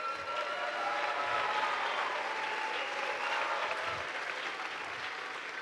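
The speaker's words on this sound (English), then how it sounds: "Round of applause." Audience applause at the FIRST in Michigan robotics state championship, a broad, steady roar of clapping from a large crowd filling a big hall, sustained without break.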